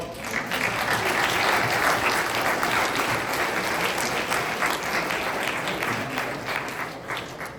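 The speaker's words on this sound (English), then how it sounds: "a quick shout out and round of applause to Yoshua Wasserman, Yoel Thrashim, and Yona" A live audience at a school mechitza presentation and dedication breaks into a full round of applause, dense and steady throughout, fading slightly toward the end.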